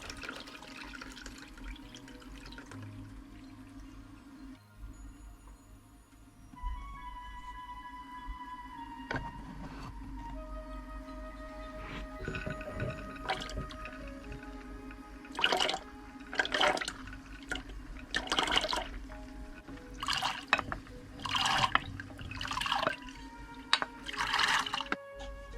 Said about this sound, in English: now we're going to drain off the excess water